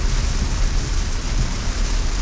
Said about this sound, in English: this is definitely a downpour. This is now heavy rain